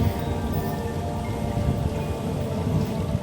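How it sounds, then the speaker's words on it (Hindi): Heavy rain pours steadily, a dense, constant wash of drops with no pauses and no voices. "तेज़ की बारिश हॉस्पिटल को और ज़्यादा डरावना बना रही थी"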